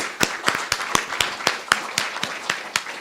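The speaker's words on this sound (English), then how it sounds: "let's give them all a round of applause" A congregation at a live spiritual center service claps in sharp, steady, fairly evenly spaced bursts, close and moderately loud, with no talking.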